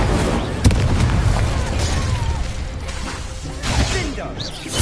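A fire spell cast in the Hogwarts Legacy video game, a dense rumbling burst with a sharp pop near the start and a swelling whoosh later, loud amid continuous battle noise and game music.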